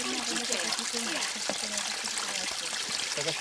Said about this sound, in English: it's a tiny trickle where it starts up here in the mountains